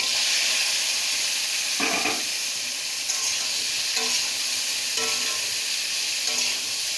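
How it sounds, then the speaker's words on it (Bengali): Boiled vegetable stalks and jackfruit seeds fry in oil over a cumin tempering, giving a steady close sizzle with a few brief clatters of stirring. No one speaks. "তেলের সঙ্গে এটা একটু ভেজে নেব ভালো করে।"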